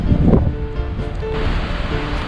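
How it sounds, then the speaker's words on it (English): Wind gusts across an outdoor cemetery, buffeting the microphone with a loud, continuous rumbling roar and a brief stronger surge near the start, no voices. "the wind's picking up. I'm probably gonna have crappy audio for this video."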